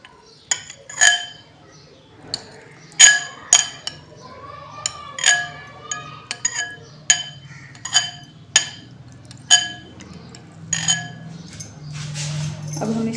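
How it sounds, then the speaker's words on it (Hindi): Set jelly being cut into small pieces in a dish, heard as a series of sharp, close metallic clinks of a utensil against the dish, coming irregularly about once a second, with a low background hum. "अब हम इसके छोटे छोटे पीसेस करेंगे।"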